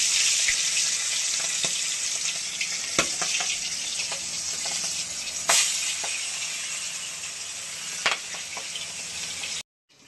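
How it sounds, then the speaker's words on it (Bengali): Pieces of boal fish sizzle steadily in hot oil in a pan, a loud continuous frying hiss broken by occasional sharp pops and clicks, ending abruptly. "বন্ধুরা এই দেখুন তেল গরম হয়ে গেছে, এবার আমি বোয়াল মাছ একে একে ছেড়ে দেবো।"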